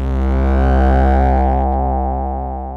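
A sustained, heavily overdriven synth square wave, buzzy and harsh with dense upper harmonics, held steady and loud for a few seconds with no talking.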